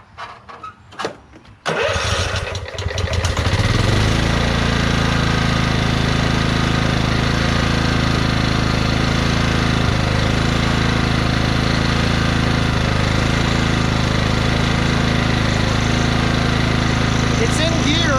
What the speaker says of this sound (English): started up the engine, put it in gear